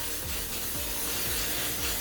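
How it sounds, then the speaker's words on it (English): Non-stick spray greasing a cake pan in a kitchen, a broad, steady aerosol hiss that runs without a break, with faint rhythmic rubbing or knocks underneath and no talking. "I just use this spray, non-stick spray."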